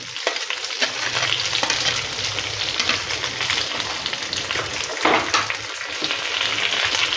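Green and red capsicum fry over a high flame, producing a loud continuous sizzle with scraping stirs and occasional clatter of the utensil against the pan, and no talking.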